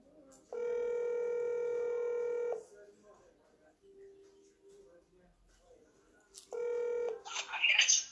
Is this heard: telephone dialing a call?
yes